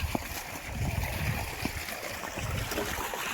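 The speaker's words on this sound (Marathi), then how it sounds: "इथं कांद्यावर पाणी चालू आहे." Irrigation water running through an onion field on a farm, a steady low gurgling and trickling wash that stays fairly quiet and continuous throughout.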